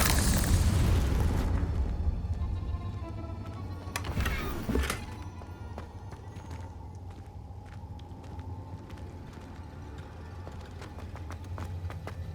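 Confringo spell explosions in Hogwarts Legacy, a loud booming blast at the start that rumbles and decays, a second sharp burst a few seconds later, then quieter crackling debris and ambient game noise with no talking.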